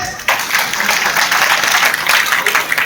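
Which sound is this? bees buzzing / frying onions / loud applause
loud applause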